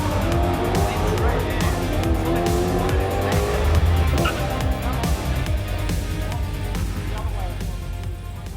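A new drag car runs down the track, its engine loud and close, climbing through rising gear sweeps with a steady roaring drone for the whole stretch.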